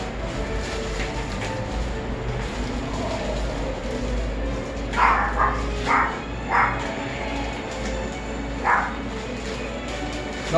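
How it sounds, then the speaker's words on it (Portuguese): A dog barks in a home during the unboxing of inline skate boots: a short burst of several barks in close succession, then one more bark, all over a steady low background hum. "Não ligue pro meu cachorro latindo,"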